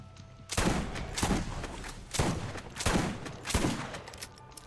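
Bursts of rapid gunfire from a weapon in the video game Borderlands, four or five loud clusters of shots separated by short pauses, close and punchy with no talking.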